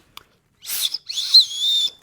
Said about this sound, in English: there's a whistle right here